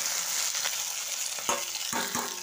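Chopped onion sizzling in hot oil with fenugreek seeds, a steady hiss of frying with a few sharp stirring scrapes and clicks near the end, close and moderately quiet.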